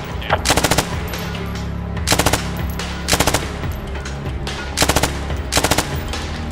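Automatic gunfire in the Squad video game, heard in five loud, sharp bursts of several rounds each over constant battlefield rumble and hiss.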